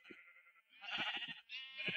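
Sheep bleating on a sheep farm in the video game Minecraft, several wavering bleats in succession, one short then longer overlapping calls, fairly close and clear with no talking.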